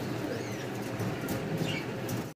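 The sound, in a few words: pigeons cooing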